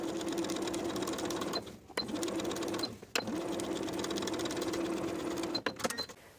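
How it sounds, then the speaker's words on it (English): A sewing machine runs in steady bursts as pocket linings are understitched to their seam allowance, about 1/8 inch from the edge, on high-waisted A-line shorts. The motor whirs close and continuous, stopping briefly twice before starting up again. "we're going to understitch the pockets, sewing the pockets to their seam allowance underneath with about 1/8 of an inch seam allowance"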